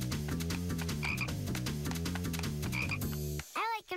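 Rhythmic, loud frog croaks repeating in a regular pulsing pattern, with a short break and squeaky higher calls near the end, in a cartoon setting.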